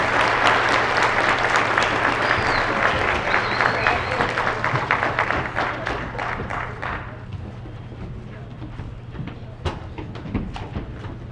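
Audience at a school invention convention applauding a group of students, a dense sustained clapping that starts strong and gradually thins toward the end, with a steady low hum underneath.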